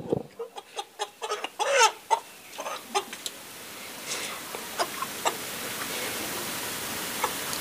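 Chickens at a poultry shop on Holi cluck and squawk in a quick series of close, sharp calls, which thin out into scattered clucks over a steady background noise.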